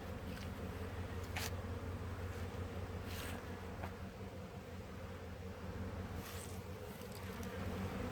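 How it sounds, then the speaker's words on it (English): A continuous, dense buzz of many honeybees in cool weather, fairly loud and steady, with a few brief louder passes as individual bees fly close. "Look at the bees."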